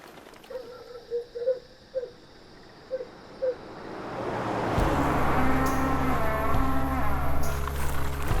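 Cattle being moved out along a highway in the morning: several distinct moos ring out one after another, then a steady broadband rumble of hooves and movement builds up and continues.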